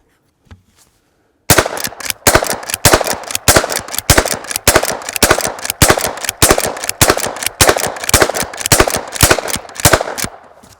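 A Henry Garden Gun fires and cycles crimp-style shotshells in a long, loud rapid string of sharp reports about twice a second, following one faint click.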